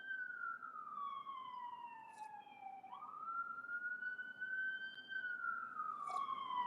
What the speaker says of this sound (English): Y'all hear the sirens all over the place.